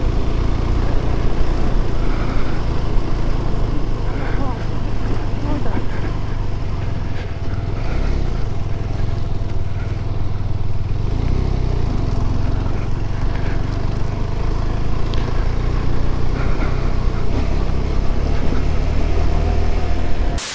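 A motorcycle rides slowly along a forest road on the route to Sach Pass, its engine a steady, loud, close drone with a low rumble that holds from start to finish, with no talking.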